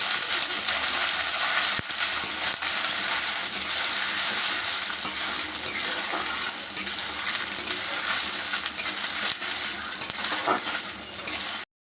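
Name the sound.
coconut pieces frying in hot oil in a wok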